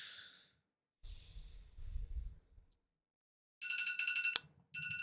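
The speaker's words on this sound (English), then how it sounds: "That's my final alarm." Electronic alarm sounding twice in short tonal bursts, separated by quiet gaps and softer breathing or rustling noises, fairly close and moderately loud.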